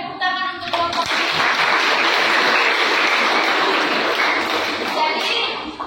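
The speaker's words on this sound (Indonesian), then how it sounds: "tepuk tangan untuk kelompok ini" Applause for a student group in a university lecture on human resource planning: a sustained wash of clapping from a room of students, steady and fairly loud throughout, with brief voices at the very start.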